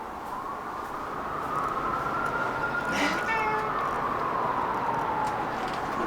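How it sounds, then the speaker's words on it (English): An elderly pet cat, around sixteen or seventeen years old, gives a drawn-out meow near the middle, with a few softer mews around it over a steady background hum. "Here's Rosie, here's my kitty."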